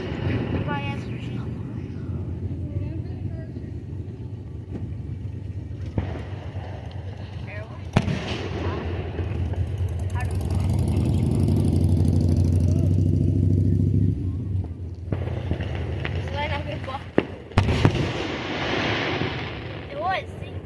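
Fourth of July fireworks at a show in Louisa, Kentucky: loud booming explosions and crackling bursts ring out over a sustained rumbling roar, with people talking between and over the blasts.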